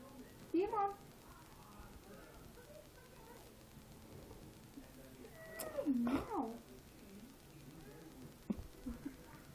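Short meows from a cat in a domestic setting, two brief rising cries near the start and middle, with people talking to the pet between them.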